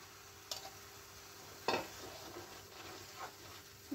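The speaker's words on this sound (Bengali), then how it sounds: "ডাল বাটাটা এর সাথে খুব ভালো করে মিশিয়ে নেব" Lentil paste is stirred into ridge gourd in a pan, with a few faint scrapes and soft clinks of a spoon over a quiet, low sizzle.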